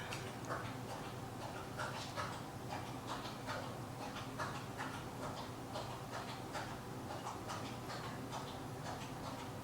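A dog laps water steadily from a bowl, a fast continuous run of wet tongue strokes heard close up with no talking over it.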